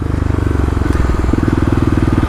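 A Kawasaki KLX351 dirt bike engine labours loudly and close uphill in second gear, a steady throbbing rumble with rapid regular pulses that shift pitch partway through as the rider pushes on.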